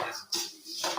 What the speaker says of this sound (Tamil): 1 கிலோ மல்லி போட்டு நல்லா வறுக்கிறோம்.